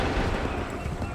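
A musket volley in the video game Assassin's Creed III, heard as a loud, dense rumble of massed gunfire that sustains without a break across the whole moment.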